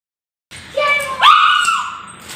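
A young boy at home lets out a loud, drawn-out scream that starts suddenly, then rises sharply in pitch and holds for over a second before trailing off, heard close up.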